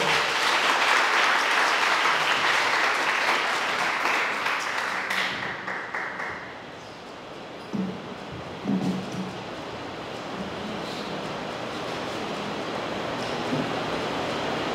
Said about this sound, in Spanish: Así que recibimos con un fuerte aplauso a Hester Kandrai.